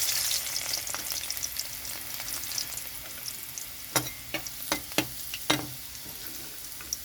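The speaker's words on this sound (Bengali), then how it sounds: "ওই তেলের মধ্যে দিয়ে দিচ্ছি জিরে, কালো জিরে। আর এখানে রসুন থেতো করে নিয়েছি, দিয়েছি রসুন।" Cumin, black cumin and crushed garlic sizzle in hot oil left from frying parshe fish. A soft, constant crackle runs throughout, and several sharp spatter pops stand out near the end.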